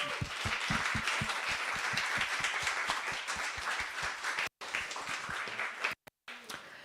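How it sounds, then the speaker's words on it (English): Youth workers and youngsters at an Estonian self-directed learning conference applaud, with dense steady clapping and rhythmic low thumps filling most of the stretch before brief dropouts near the end. "So big applause to all our youngsters."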